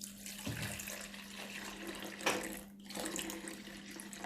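Liquid poured into a heavy measuring jug, a steady broadband trickle running throughout with a brief louder splash near the middle, close and moderately quiet, no talk.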